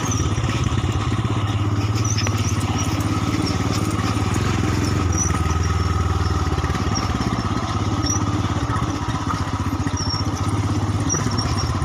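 A 2021 Royal Enfield Himalayan motorcycle rides off-road, its single-cylinder engine thumping steadily and loudly close by, with light clatter over rough ground and no voices.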